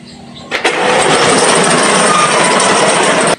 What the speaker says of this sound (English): see if the bikes actually start